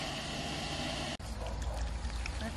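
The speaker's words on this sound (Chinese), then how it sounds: "把水龙头打开" Tap water gushing and splashing steadily while watering dry succulents in a greenhouse, a continuous close rush with a brief break partway through, then rougher pouring.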